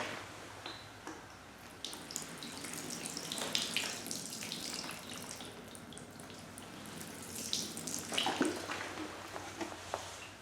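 Water running and trickling off a car window treated with Rain-X, a soft, continuous watery wash with scattered drips and splashes, faint and close with no speech.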